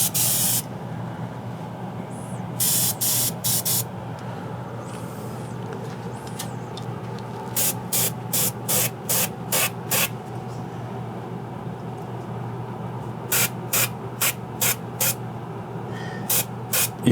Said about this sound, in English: you notice the direction that I'm going with the airbrush